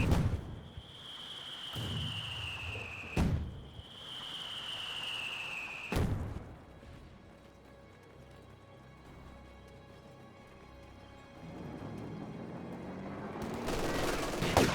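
Distant MG42 machine gun fire during a Company of Heroes 2 battle, appearing as sharp bursts and single cracks over a steady rumbling battlefield backdrop.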